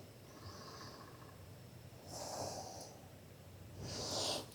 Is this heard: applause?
no